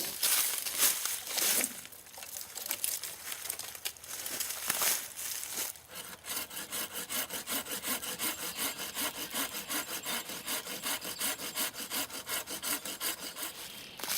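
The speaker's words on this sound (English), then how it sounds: "We'll cut it off right there at the base and see what we're working with." Hand saw cutting through a standing wooden pole at its stump base outdoors, starting with a few irregular strokes and then settling into a long steady rapid back-and-forth rasp, close and clear without speech.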